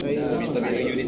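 Racing pigeons being loaded for a pooled race coo softly in a low, continuous murmur, with a voice talking over them.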